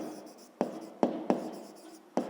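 A pen scratches out a fifth-grade maths solution on paper, close and quiet, with a handful of sharp taps and strokes at uneven intervals among softer scribbling.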